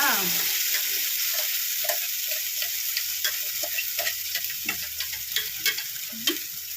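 Fried ridge gourd chutney being stirred in a pan: a steady close sizzle with scattered scraping and tapping of the spoon against the pan, and no talking.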